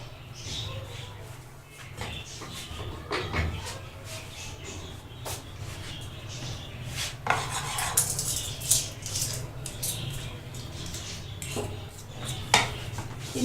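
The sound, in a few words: mixing mango cake batter in a bowl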